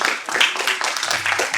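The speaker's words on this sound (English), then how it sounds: "Let's give everyone a round of applause. Another round of applause." A congregation at a Mother's Day service claps together, a close, dense patter of many hands with voices mixed in beneath it.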